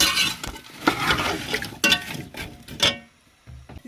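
Spoon stirring pure ghee through grated carrot halwa in a pot, with a few scraping strokes and soft clinks against the metal, close and moderately loud, then a brief quiet stretch near the end.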